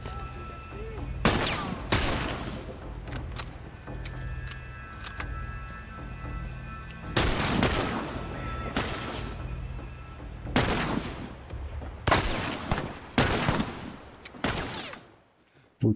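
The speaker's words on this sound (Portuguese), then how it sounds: "Último tiro, última bala." Bursts of loud gunfire in The Last of Us, single shots and rapid volleys, scattered across the clip with quieter gaps between them.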